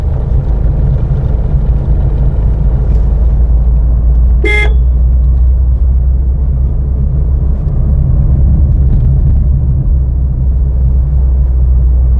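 A car horn gives one short, loud honk while a vehicle takes a curve during a driving lesson, rising over a steady low engine and road rumble.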